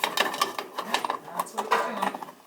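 Failing motor of a 1972 gas furnace, 49 years old and unable to start, gives a rapid, uneven mechanical chatter and whir up close, with a voice talking over it.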